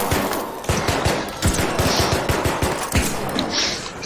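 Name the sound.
shotgun fire in video game Arc Raiders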